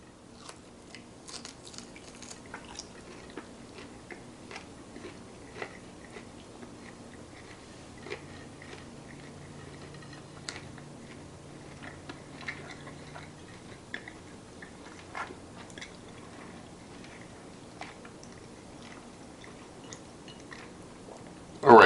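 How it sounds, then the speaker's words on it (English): Someone chews a bite of smoked brisket flat cooked on a GMG pellet smoker grill, with soft, close, irregular mouth sounds over a long stretch and faint background noise. "I'm going to taste the slice from the flat first."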